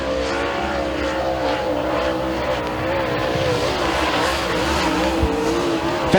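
Super late model race car number 25Z roars through a qualifying lap at Thunder Mountain Speedway, a loud, steady engine drone that holds close for the whole stretch with slight shifts in pitch.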